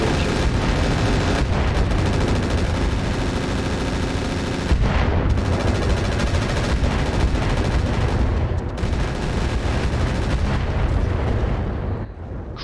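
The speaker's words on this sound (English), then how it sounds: "That was some serious firepower coming out of the little guy." Heavy weapons fire in the RogueTech BattleTech mech game, including rocket launcher salvos: dense, continuous loud booms, rumbling blasts and rapid shots layered with no pauses.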